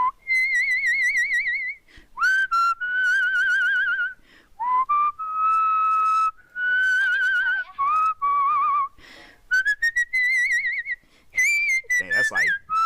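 A person whistles a bouncy, wordless tune up close, with clear sustained notes and quick trills broken by short pauses.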